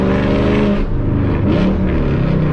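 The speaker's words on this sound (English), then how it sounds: "That big V8 coming down the road making all the noise" Dodge muscle car V8 roaring loudly and continuously as it passes close by, deep rumbling exhaust with surging throttle and no talking.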